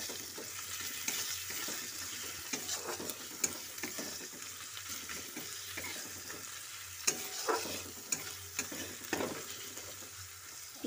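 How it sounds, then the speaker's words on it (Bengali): Garlic paste fries with onions in a pan: a soft, steady sizzle broken by repeated scraping stirs and spoon taps, fairly quiet and close, with no talking. "রসুনটাকে পেঁয়াজের সাথে ভালো করে মিশিয়ে একটু ভেজে নেব"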